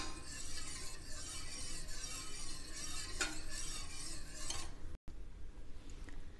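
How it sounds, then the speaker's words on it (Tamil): A pan of milk boiling on the stove for filter coffee, stirred continuously to keep a skin from forming, giving a steady bubbling hiss with faint utensil scrapes and one brief clink. "அது வந்து நல்ல ஏடு கட்ட விடாம இந்த மாதிரி நல்ல கலந்து விட்டுறலாங்க"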